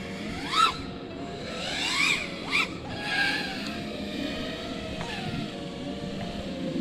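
FPV racing drone motors rise and fall in pitch as the throttle is blipped and eased, a distant whining buzz with a few sharper swells over steady background noise.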